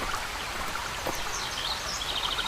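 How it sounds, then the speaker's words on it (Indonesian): A waterfall splashes steadily in the background of a narrated legend, a continuous close watery hiss with faint bird chirps above it and no voices. "suara air terjun membuat damai"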